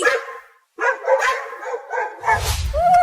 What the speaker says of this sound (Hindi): अरे ये कुत्ते हमारे घर के पास आकर क्यों भौंकने लगे?